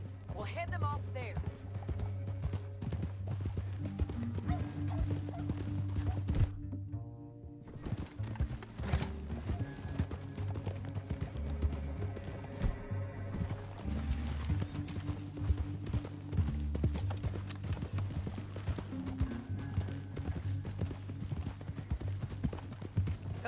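Horse hooves galloping in the video game Red Dead Redemption 2, rapid rhythmic clip-clop under a musical score, with a horse whinnying and characters talking over the riding.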